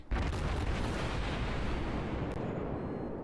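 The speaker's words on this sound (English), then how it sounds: "Bring the guns to bear. Full volley." Warship main battery guns in World of Warships fire a full volley, a single massive broadband boom with a long rumbling tail filling the whole clip, loud and close.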